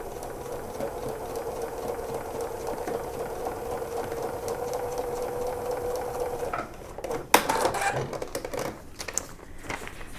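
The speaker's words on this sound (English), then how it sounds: "And then just putting it right on my machine, keeping everything together, and then stitching" A home sewing machine stitches quilt block pieces for a dragon fruit block-of-the-month quilt, whirring steadily and close for several seconds before stopping, followed by brief handling clatter.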